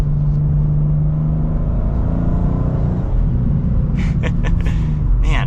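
A 2024 BMW M2 with a six-speed manual pulls hard through turns, its engine a loud, rising rumble that swells and eases, with a few brief ticks and knocks near the end.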